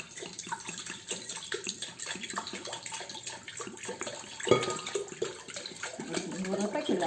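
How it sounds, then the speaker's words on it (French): Three litres of water are poured into a container while making Ormus, a steady splashing pour with gurgling surges, moderately close, as a person talks over it. "Donc je mets 3 litres d'eau, voilà, dans mon récipient."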